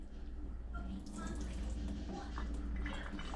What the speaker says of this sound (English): I'm just going to pour some of this liquid out.